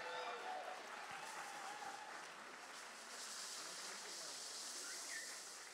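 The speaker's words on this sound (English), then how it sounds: "Could I hear a round of applause for the drummers?" Audience applause for drummers at a Trinidadian Orisha performance: steady, even broadband clapping that fills the whole stretch at low level, like a distant crowd, with no clear individual claps.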